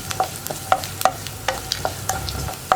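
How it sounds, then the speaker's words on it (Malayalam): Onions being stirred in a pan for tomato curry, a steady series of close scraping strokes against the pan over a faint sizzle, with no talking. "സവോള ചേർത്ത് കഴിഞ്ഞിട്ട് കൈ എടുക്കാതെ ഇളക്കി കൊടുത്തുകൊണ്ടിരിക്കുക കേട്ടോ"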